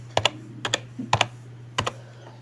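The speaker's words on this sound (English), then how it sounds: "And then I type ls" Keys tap on a computer keyboard as a short Linux terminal command is typed, four quick pairs of crisp clicks over a low steady hum.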